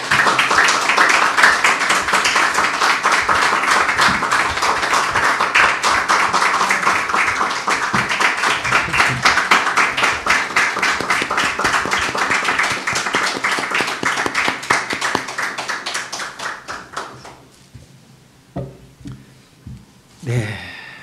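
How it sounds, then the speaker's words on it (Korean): A church congregation applauds at a missionary commissioning service, dense loud clapping sustained for about fifteen seconds before thinning out into a few scattered claps and fading to quiet. "여러분 박수 주세요."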